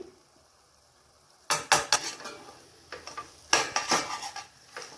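Masala for a Tamil chicken pepper fry being stirred in a pan, with repeated scraping and clinking of a spoon against metal in quick bursts after a quiet start, close and fairly loud.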